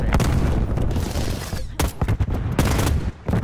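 Dense, loud Call of Duty gunfire on the Nuketown 84 map in Hardpoint mode: rapid overlapping automatic bursts and booming shots that run almost nonstop, then break into short, choppy volleys with brief gaps near the end.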